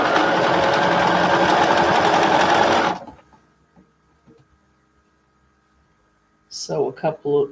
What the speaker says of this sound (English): So I'll sew those together.